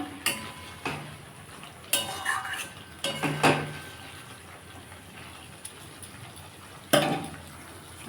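A spoon scrapes and knocks against a pan while katla fish curry with garam masala is stirred, producing intermittent close clanks and scrapes over a quiet background.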